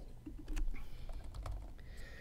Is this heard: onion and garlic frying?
no